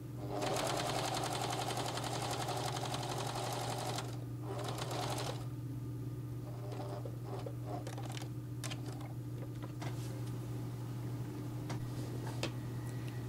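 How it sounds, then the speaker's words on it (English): A sewing machine stitching lace along a seam of a sun dress, a rapid even mechanical chatter for the first seconds, then shorter bursts and a few ticks over a steady low motor hum. "Cut that pleat and then just sew all the way to the end."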